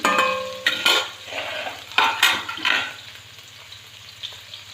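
Paneer cubes frying in a pan for shahi paneer give a sizzle that swells and fades, broken by sharp metallic clinks of a utensil against the pan, with no talking.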